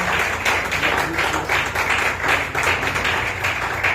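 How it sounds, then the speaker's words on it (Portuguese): Church congregation applauding during an evening worship service, a steady dense wash of many hands clapping that holds loud and even throughout with slight rhythmic swells. "Dê uma salva de palmas para Jesus nessa noite."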